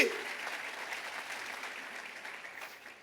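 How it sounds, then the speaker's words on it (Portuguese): A congregation claps together in a steady, moderately loud wash of applause that slowly fades, heard from within a large room. "Pode aplaudir agora o Senhor, se você crê nisso."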